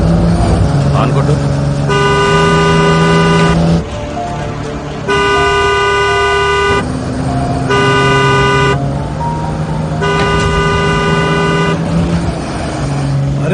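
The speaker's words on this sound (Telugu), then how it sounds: "హార్న్ కొట్టు." A car horn honks in repeated long blasts, four distinct toots separated by short gaps, loud and close over a bed of road traffic rumble on a busy street.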